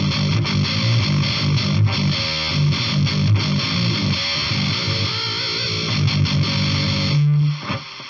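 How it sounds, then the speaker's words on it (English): A Horse Extreme Metal distortion pedal drenches a guitar in heavy fuzz and hiss, loud and dense for about seven seconds with the chugging notes smeared together, then a held note cuts off abruptly into quiet. "Just adds a bucket load of hiss and fuzz to it."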